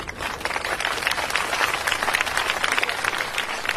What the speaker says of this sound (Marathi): एकदा स्वतःसाठीच जोरदार टाळ्या होऊन जाऊ द्या